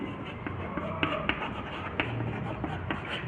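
Pen or chalk writing out the working of a math problem about a two-digit number, a faint steady scratching with small taps under a low background hum.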